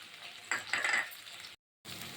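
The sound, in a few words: stirring eggplant gravy with chili powder in a pan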